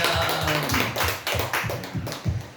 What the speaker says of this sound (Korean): 주님 앞에 영광의 박수 돌립니다.